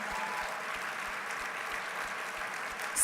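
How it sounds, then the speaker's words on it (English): Steady applause from a gala audience honoring two guests at a cancer research foundation event, an even, continuous patter of many hands at moderate distance with no talk over it. "We just want to give you a round of applause."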